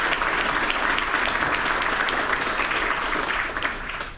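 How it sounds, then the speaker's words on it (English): A crowd claps steadily and energetically, the applause sustained throughout and tapering slightly at the end. "We would give them a round of applause."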